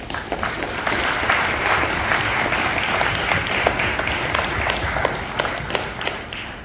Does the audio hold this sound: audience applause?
yes